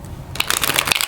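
A deck of tarot-style cards riffled and shuffled, a quick burst of dense papery flicking after a brief quiet start, close and fairly loud with no talk.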